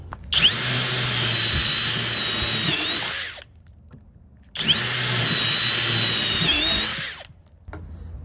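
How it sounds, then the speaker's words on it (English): FLEX impact driver boring into material with a 1/4-inch drill bit: two loud whining bursts of about three seconds each, separated by a brief quiet pause, close up with no voices. "let's go drill some stuff. A 1/4-inch flex drill bit."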